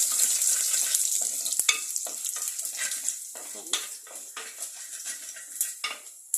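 Mustard seeds, urad dal, cumin and dried red chillies crackle and splutter in hot oil for a fish meal, a dense steady sizzle broken by sharp pops and the clink of a utensil against the pan, with no talk.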